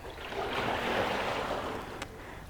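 Steady rushing, sloshing water noise from the tank of an Ergatta Lite water rowing machine, continuous and fairly soft, with a brief click near the end.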